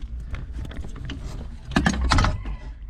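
Mechanical clicking and metallic rattling as a part on a first-generation Dodge Neon SRT-4 coupe shifter is snugged down, with a louder burst of ratcheting near the end, close up and without talk.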